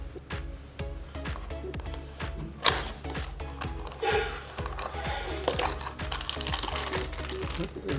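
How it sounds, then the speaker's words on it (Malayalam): Crinkling plastic and paper packaging with rapid tapping and rustling as an Airtel My WiFi AMF-311WW modem box is opened, with a voice talking over the handling. "അപ്പോൾ ഇത് നമുക്കിനി അൺബോക്സ് ചെയ്ത് നോക്കാം."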